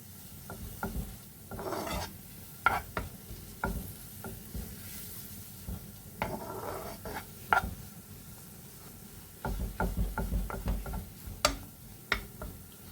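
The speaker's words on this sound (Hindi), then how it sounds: "इसको हम थोड़ा सा फ्राई कर लेंगे" Food frying in a pan for a lasagna dish, with a steady low sizzle under repeated sharp clicks and scrapes of a utensil against the pan, close and moderately quiet, no talking.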